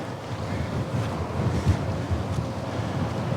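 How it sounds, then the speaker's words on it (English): Strong wind gusts across an open, damp field, buffeting the microphone in a steady low roar with no voices. "the wind is really picking up now that I'm up here"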